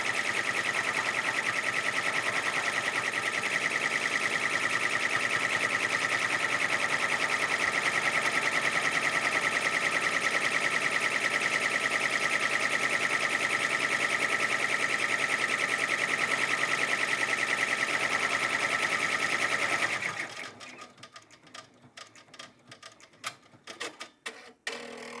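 An embroidery machine stitches free standing lace in a steady, rapid mechanical chatter that runs unbroken for about twenty seconds, then abruptly stops, leaving a few scattered clicks.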